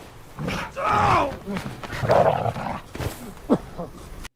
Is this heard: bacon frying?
no